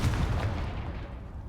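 Confringo blasting spell detonating against rubble in Hogwarts Legacy: one heavy low boom right away, followed by a rumbling tail that slowly dies down.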